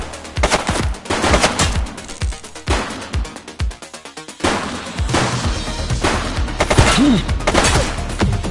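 Rapid bursts of gunfire ring out in The Precinct, a police sandbox video game. Loud clustered volleys and single shots crack in quick succession, with short pauses between bursts and heavier firing toward the end.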